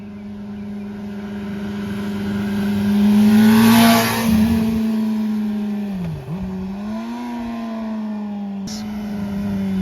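A Honda CBR600RR motorcycle engine revs up to a loud peak, drops with a dip and climbs again, its pitch sweeping up and down while the rider works the clutch, close by and with no talk.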